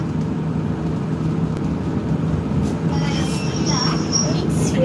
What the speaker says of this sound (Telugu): ఇది ఇంటర్సిటీ ట్రైన్.